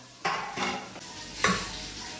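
Pots and utensils are handled close by, with a few distinct metallic clatters and scraping knocks spread across a couple of seconds against a quiet room background.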